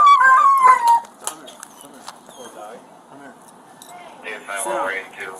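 A dog whines with a short high-pitched whimper at the start, then makes quieter sounds amid a tense police arrest scene, with people talking throughout.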